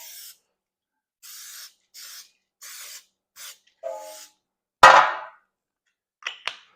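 Cooking spray misted into a 9x9 cake pan: several short, separate hissing bursts close up, followed by a few clatters and knocks.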